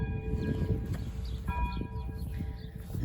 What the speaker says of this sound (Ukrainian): Я живу біля храму, та чути дзвін.